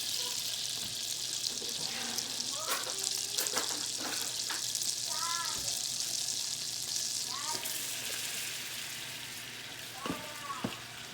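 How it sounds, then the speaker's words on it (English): Flour being stirred into melted butter in a pan to make a roux for macaroni and cheese, a soft steady sizzle with scattered scraping and clicking of the utensil against the pan. "I'm just going to mix it all in to make a nice roux like that."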